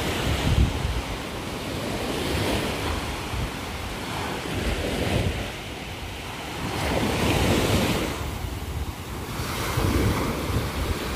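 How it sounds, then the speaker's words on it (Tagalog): Strong ocean waves surge and crash near Balut Island, a heavy rolling roar rising and falling in slow swells, mixed with gusty wind buffeting the microphone. "Ayan, ito na yung malakas na alon."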